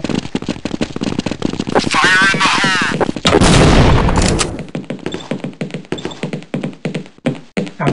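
Rapid gunfire rattles through a Counter-Strike 1.6 round on the Inferno map, with close, loud shots, a heavy burst of blasts in the middle and scattered shots after, all under excited voices talking over it.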